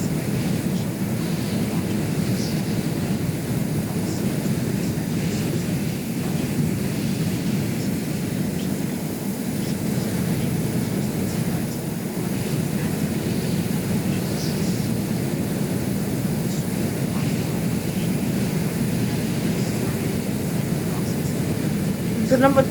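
Multi-engine aircraft in the game Stormworks drone as a steady, loud, broadband engine roar for the whole stretch, close and continuous with no clear changes in pitch.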